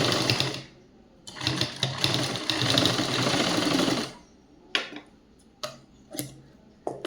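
An electric sewing machine stitches a school uniform skirt, one sustained run of rapid stitching followed by several short bursts and clicks as the fabric is adjusted.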